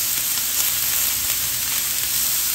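Steak flap meat seasoned with steak and fajita seasoning sizzles on a hot iron Mongolian barbecue grill, a loud, continuous, hissing fry up close with no voices.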